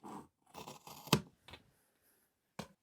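Scissors cutting Ankara wax print fabric, a few close, crisp snips and rustles in quick succession, then a pause and one final cut, with no talking.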